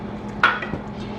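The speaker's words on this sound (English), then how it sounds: "Now I will add the tomatoes" Tomatoes dropped into ginger garlic paste frying in a pan for kadai sabzi, giving one sharp clatter and a softer knock over a steady low background hum.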